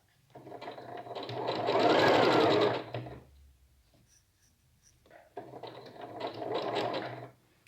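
A sewing machine runs a straight stitch through fabric in two steady bursts, a longer whirring run followed by a pause and then a shorter run, close and clear.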